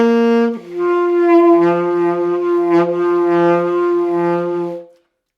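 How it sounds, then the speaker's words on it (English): A saxophone holds a low note that starts high, drops an octave, then wavers and flickers between the two registers before cutting off. "you hear how it's sort of fighting between the high and the low version?"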